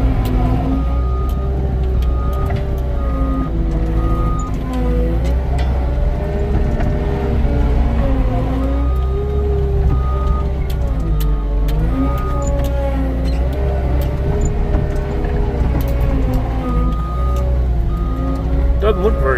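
A skid steer runs with a constant heavy engine drone and shifting revs as it tracks back and forth packing down dirt around a newly installed water control structure, loud and close throughout.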